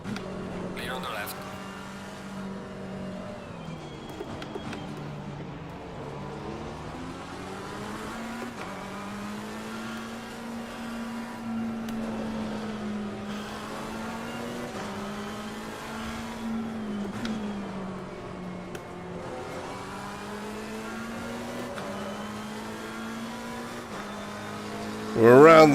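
Race cars lapping the Misano circuit in Assetto Corsa Competizione, a steady engine drone with pitch rising and falling through gear changes, under intermittent talk, with a brief louder burst at the end.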